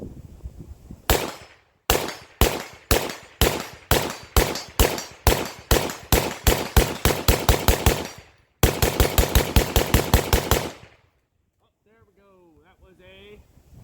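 PSA AK101 rifle fired outdoors at a tire, a long string of evenly spaced loud single shots, a brief pause, then a faster run of shots before stopping, with faint voices afterward.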